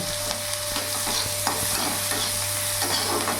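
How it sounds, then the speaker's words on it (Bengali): Chopped onion sizzles in hot oil with whole cumin seeds for a fish curry, a steady close frying crackle punctuated by repeated scrapes and taps of a spoon stirring the pan, with no voices. "এখানে আমি কিছুটা পেঁয়াজ কুচি দিয়ে দিলাম"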